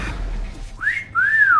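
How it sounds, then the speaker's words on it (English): A wolf whistle sounds in the video game Need for Speed Most Wanted: two loud, clear, close tones, a short rising note followed by a longer arching one that falls away. "Woof, whistle!"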